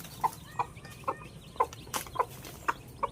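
A hen with ten newly hatched chicks clucks softly and steadily, about nine short, evenly spaced clucks at fairly close range over a quiet background.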